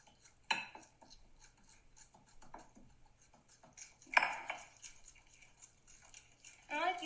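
A fork beats banana bread batter in a bowl, giving faint quick scraping taps with a few louder clinks against the bowl's side.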